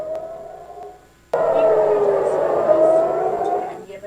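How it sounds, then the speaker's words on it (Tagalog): A civil defense air-raid siren wails loudly and steadily with a held rising-falling tone, faint at first then suddenly much louder from about a second and a half in, sustained to the end, heard during missile alerts in Israel. "Nakakatakot naman pakinggan itong sirena, sirens."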